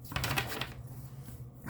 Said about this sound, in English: doing the pre-shuffle for you guys.